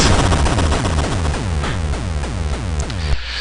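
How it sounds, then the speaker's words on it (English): A fusion reactor explodes in the Game Boy game Mega Man 5: a loud, retro electronic explosion of rapidly repeating crackling bursts that runs continuously for about three seconds, then cuts off abruptly. "And we look back and see an almighty explosion."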